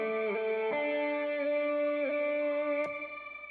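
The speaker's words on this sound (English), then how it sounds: "that's a shimmer reverb" A shimmer reverb effect in an Ableton Live mix, with bright, sustained harmonic tones that glide between a few chord changes, trail off in a shimmering tail and are briefly broken by a sharp click.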